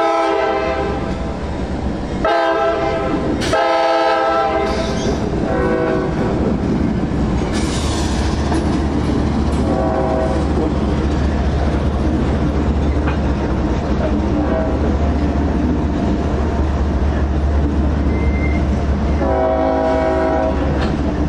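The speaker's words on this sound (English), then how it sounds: "A nice K5 LA on 581 as they pull away from the train." A CSX locomotive sounds its K5LA air horn in repeated loud multi-tone blasts as the train pulls away, over a steady low diesel engine rumble with rail rolling noise between the blasts.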